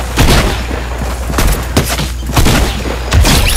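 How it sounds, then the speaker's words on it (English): A heavy machine gun fires in a video game as loud, dense bursts of booming shots, layered over a deep rumbling low end. Other game sounds mix in and no one speaks. "Perfect use of the heavy machine gun."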